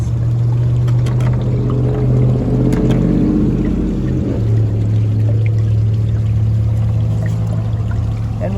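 Water pours steadily down a sluice box used to wash crushed gold ore, a loud continuous rushing flow with a low mechanical hum beneath it and no voices.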